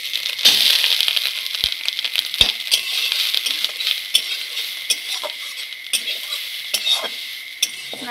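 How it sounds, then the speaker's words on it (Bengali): Grated coconut fries in a little oil in a wok, a close sizzle under constant scraping and stirring with a spatula, punctuated by sharp metallic clinks against the pan. "এই কড়াইতে সামান্য একটু তেল আছে, দেখতে পাচ্ছেন আপনারা বন্ধুরা। এই তেলেই আমি নারকেল কুড়াটা ভেজে নেব।"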